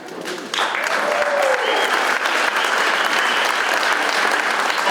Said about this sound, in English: I think that deserves applause too.